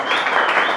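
A church congregation applauds in a dense, even wash of clapping that fills the whole brief moment.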